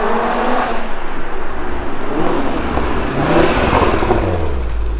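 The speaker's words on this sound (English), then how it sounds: "I feel like I can actually hear his car coming in the distance." A facelifted Audi RS3 (8V2) arrives with its engine revving, a loud continuous roar that swells as it draws near, heard alone without talk.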